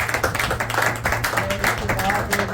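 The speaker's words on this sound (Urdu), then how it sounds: "سب سے پہلے ہم آج کے کلام کو ویلکم کریں گے بہت ساری تالیوں کے ساتھ" A church congregation claps to welcome the scripture reading at a Christian service. Dense, continuous clapping fills the room, close and fairly loud, with some voices mixed in.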